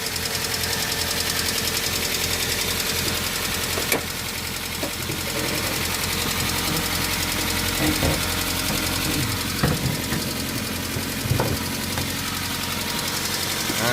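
A Daihatsu Xenia engine, rough after being rebuilt, idles at a steady level, with a few sharp knocks and clunks standing out over the uneven rumble.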